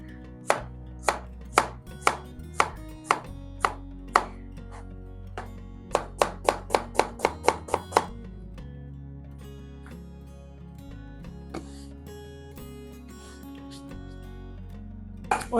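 Knife chopping onions on a board for a chicken korma: a steady run of sharp, close taps in two bursts, then quieter scattered kitchen clatter, with no talking.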